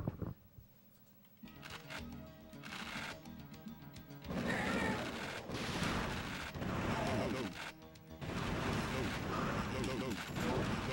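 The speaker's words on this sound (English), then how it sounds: "it has an auto fire option, or I'm sorry, a rapid fire" Rapid-fire gunshots from a retro video game rattle in dense, continuous bursts that briefly drop out and then resume, loud and busy throughout.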